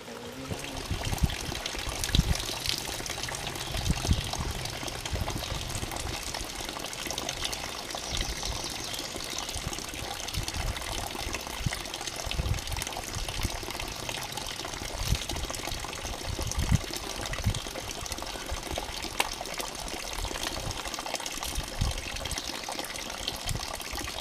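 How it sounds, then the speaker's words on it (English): Filtered water pours steadily into a bucket at a trail water source along the Appalachian Trail, a continuous close trickle and gush with no talking. "all I really got to do now is just fill up the bucket"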